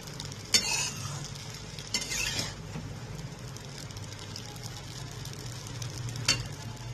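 Egg chow mein with sauce sizzles in a pan under a soft steady fry, while a utensil scrapes and stirs in a few sharp clinks and sweeps.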